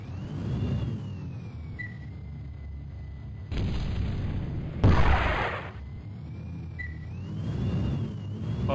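Grenade explosions in Battlezone 98 Redux, two heavy booming blasts in quick succession over a steady droning game background with electronic whines.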